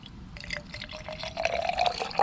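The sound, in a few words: liquid poured into an engine cylinder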